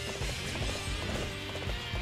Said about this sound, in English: Horse! You ride.